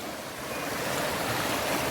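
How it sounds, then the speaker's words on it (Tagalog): Clean river water rushes steadily along a hiking trail on Mt. Marami after rain, a loud, continuous broadband flow close to the microphone with no voices over it. "Ang linis ng ilog."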